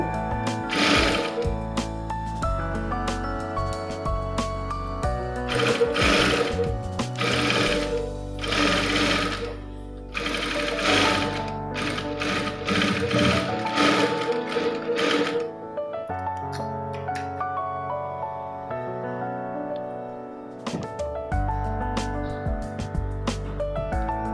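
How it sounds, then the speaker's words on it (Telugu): Sewing machine running close and loud while stitching cloth piping onto fabric, steady mechanical whirring in several long runs separated by brief pauses and a quieter hum, no talking. "దానికి ఈ చివరలో ఒక స్టిచ్ వేసుకోవచ్చు లేదంటే హెమ్మింగ్ చేసుకోవచ్చు నేనైతే స్టిచ్ వేసుకున్నాను"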